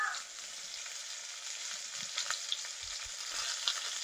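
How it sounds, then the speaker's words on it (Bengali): Mango pieces frying in hot oil with whole mustard seeds, salt and turmeric, a steady close sizzle with faint crackles and a few soft utensil knocks, no voices. "লবণ হলুদ দিয়ে আমটা ভেজে নেব।"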